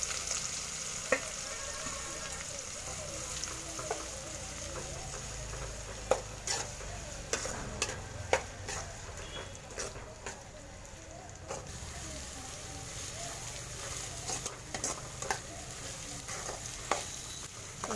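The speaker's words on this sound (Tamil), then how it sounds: "வெங்காயம் நல்லா பொன்னிறமாக வறுக்கணும்." Chopped onions fry with dried red chillies in a pan, giving a steady sizzle for the whole stretch, with scattered clinks and scrapes of a spoon as they are stirred.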